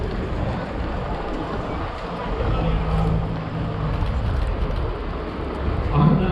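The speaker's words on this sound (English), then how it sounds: "the Ferguson tractor 1957 FE35" A 1957 Ferguson FE35 tractor rolls past at a cart marking ceremony in Guildhall Yard, City of London, its low, steady engine rumble running under a voice talking throughout.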